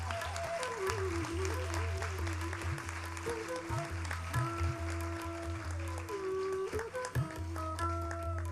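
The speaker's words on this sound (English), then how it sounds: "A big round of applause for Priya." Sustained audience clapping at the Natya Kala Conference 2022 inauguration at Krishna Gana Sabha runs steadily throughout over a low drone and a wandering melodic instrument line.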